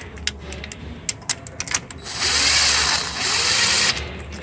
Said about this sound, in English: Okay, so I'm gonna do it with a drill.